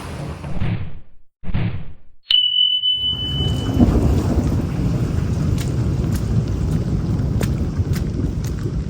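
Heavy rain pours steadily while a sharp crack of thunder breaks in early and rumbles on, with a brief hush beforehand.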